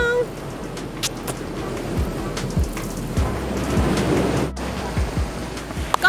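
Strong sea waves at a deep beach roll and break in a continuous, loud wash with gusts of wind, heard up close and broken by occasional sharp splashes and bumps.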